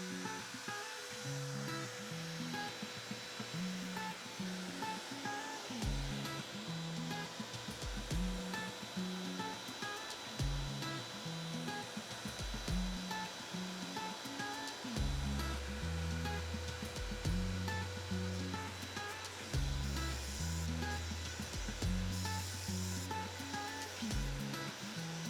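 A CNC router cuts with a downcut spiral bit, making a steady loud rushing whine with rhythmic bursts and changes in pitch as the bit moves through the material.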